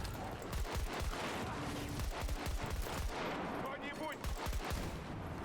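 Rapid full-auto gunfire in the Battlefield 2042 video game, in sustained, dense bursts with sharp repeated cracks, and a voice talking over it.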